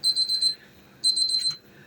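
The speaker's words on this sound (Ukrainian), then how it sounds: "в мене спрацював таймер" A kitchen timer beeps in two quick bursts of rapid electronic chirps, loud and close, separated by a short pause, while cauliflower boils.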